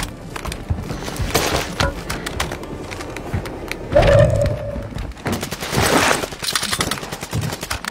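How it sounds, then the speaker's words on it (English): Bursts of automatic gunfire from a video game shooter crack through a busy mix, with a louder flurry near the middle and more shots toward the end, alongside a faint cooing tone. "Where you shooting at?"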